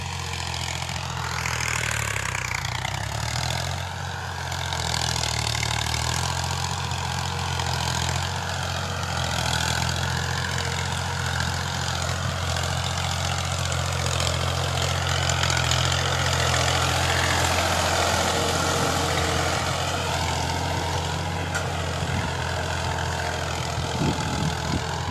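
A Ghazi tractor engine idles in a village setting, a steady low rumbling chug with even rhythm, loud and close throughout with no talk.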